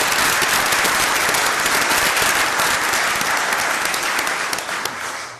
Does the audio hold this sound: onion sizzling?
no